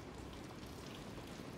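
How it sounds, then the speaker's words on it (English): Steady rain falling on a surface, a continuous broadband patter heard close and alone with no voices. "nice to plug in and to hear the rain"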